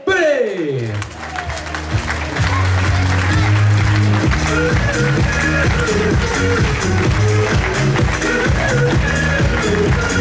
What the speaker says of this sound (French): Je vous demande d'applaudir bien fort, Ludovic Pellet